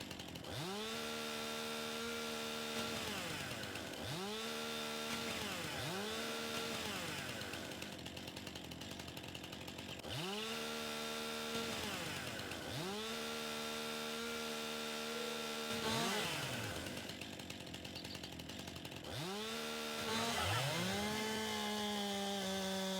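A chainsaw in Farming Simulator 2019 cutting wood, its engine revving up in repeated long bursts with steady droning tones and sliding pitch between cuts, loud and continuous with no talking.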